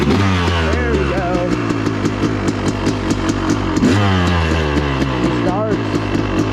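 Enduro dirt bike engine running close and loud, a steady throbbing four-stroke pulse with small rises in revs and a mechanical clatter throughout.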